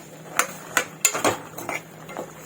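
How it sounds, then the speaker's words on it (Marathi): White peas and potatoes are stirred into a spiced pan gravy, with a spoon clinking against the pan in about six sharp, close knocks followed by softer scraping. "आता आपण त्यामध्ये वाटाणे घालूया बटाटा घालून घेऊया आणि चांगलं असं मिक्स करूया"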